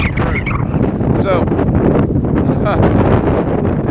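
Strong 56 mph wind roars and buffets a microphone outdoors, a loud continuous rumbling blast with gusting surges throughout.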